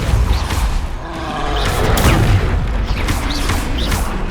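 A Depulso spell cast in the video game Hogwarts Legacy gives a loud, dense burst of booming, crashing force amid layered combat effects, continuous and heavy throughout with no speech.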